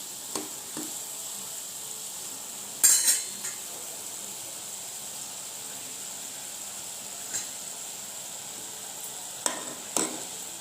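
Sugar mixture for dhokla being stirred in a pan, a faint continuous hiss broken by a few sharp spoon clinks against the metal scattered through the stretch.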